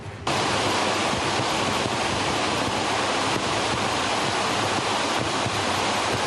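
Floodwater rushes loudly and steadily after heavy rain in Istanbul, a dense unbroken roar like a waterfall pouring over a highway, with no voices.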